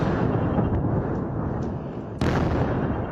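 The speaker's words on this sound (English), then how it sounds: "And as night fell, a huge explosion in Beirut." A huge night explosion in Beirut, captured in news footage, rumbles as a loud, continuous low roar with a sudden sharp blast-like jump near the end, with no one speaking.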